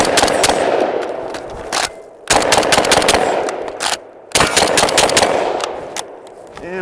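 A Tavor TS12 12-gauge bullpup shotgun firing 15 high-brass rounds in quick succession: loud, sharp blasts in three rapid bursts separated by brief pauses, close and dominant with no talk over it.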